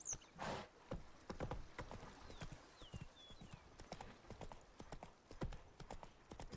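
Roach, the horse in The Witcher 3: Blood and Wine, clip-clopping along at a steady trot, hooves close and fairly clear throughout with a brief snort early on.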